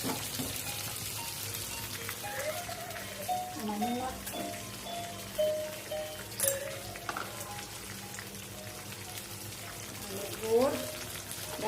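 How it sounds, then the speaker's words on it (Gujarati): Dal (lentils) boils in a pot with a soft, steady bubbling and spattering under nearby talk that carries on throughout. "અહીંયા દાળ ઉકળે છે"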